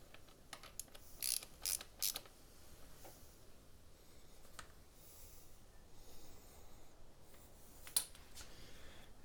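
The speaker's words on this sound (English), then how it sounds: "Just going to tighten up the axle." A ratchet tightens a motorcycle rear wheel axle in a few faint, quick bursts of clicking, then sparse single clicks over quiet background, with no talking.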